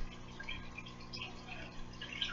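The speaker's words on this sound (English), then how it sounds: "My hand is dripping." Water drips from a wet hand over a fish tank, faint little droplet taps over a low steady hum, quiet and close.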